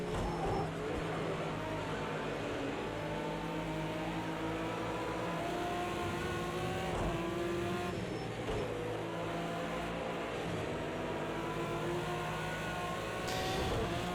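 An Aston Martin race car in Project CARS 2 drones steadily at high revs through the whole stretch, its engine note sliding through gear changes with a brief shift near the end, loud and close with no talk.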